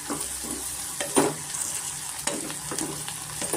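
Spices frying in a pan for hotel-style avarekalu bath, a steady close sizzle with stirring scrapes and spatula taps at irregular intervals, no voices.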